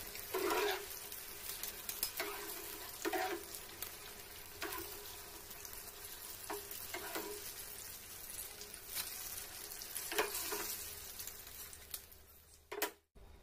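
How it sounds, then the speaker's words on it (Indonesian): Gentle sizzling of banana fritters frying in oil, with soft scattered clinks and stirring scrapes at irregular intervals, quiet and close. "kembali kita goreng nih"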